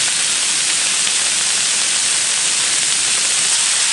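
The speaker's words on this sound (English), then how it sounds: "Bit of sizzle. This barbecue steak will not take long at all." A barbecue steak sizzles loudly on a hot grill plate, a dense, steady hiss with a little oil spatter, close and continuous with no talking.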